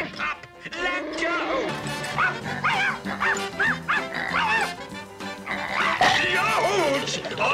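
A cartoon puppy barks and yips while biting, its sharp bow-wows and high yelps mixed with a shouting voice and busy cartoon music throughout.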